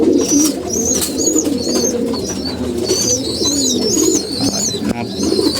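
Pigeons kept in a loft coo repeatedly and close by, their soft rolling calls overlapping continuously with a few higher chirps mixed in, and no one speaking.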